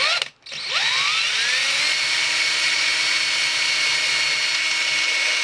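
A power drill bores a hole through a guitar body for a Tremoline FT36 install: a brief pause, then the motor spins up with a rising whine and settles into a loud, steady drilling tone.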